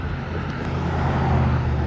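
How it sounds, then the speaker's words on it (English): Steady motor traffic noise from cars on a nearby raceway, a continuous low rumble and road roar held at an even level throughout, with no talking. "so sorry about the car noise"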